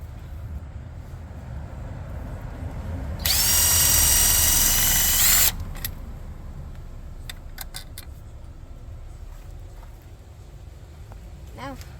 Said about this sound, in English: Now we're going to use this 10mm to remove the screws.